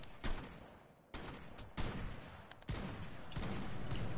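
Repeated bursts of gunfire aimed at a player in an online survival shooter, loud and close, firing in several rapid volleys with short gaps between them and no talk over it.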